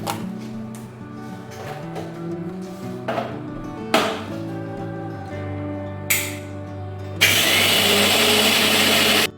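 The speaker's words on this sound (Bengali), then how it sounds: "এই ডালের সাথে একটা কাঁচা লঙ্কা দিয়ে দিলাম এটা বেটে বড়া করে ঝোল করবো" A kitchen grinder blends soaked lentils with a green chili into fritter batter: a few short whirring bursts, then a loud, continuous grinding roar to the end.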